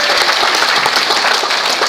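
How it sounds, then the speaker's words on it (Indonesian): Loud, dense applause for Royal Crown, a steady wash of many hands clapping that continues without a break. "Tepuk tangan buat Royal Crown yang saya"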